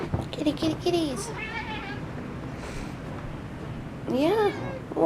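A cat meows several times up close, a cluster of cries at the start and another pair after a short pause.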